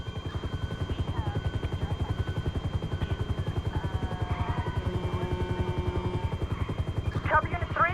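Police helicopter in GTA V, a steady, close rotor chop pulsing rapidly throughout at a constant loud level, with faint game sounds and a brief burst near the end.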